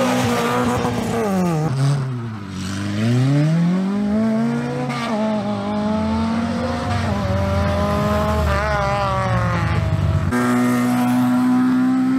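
Race car number 36 launches up a hill climb course, its engine rising and falling through sweeping revs and gear changes, loud and close, then holding a steady high drone near the end.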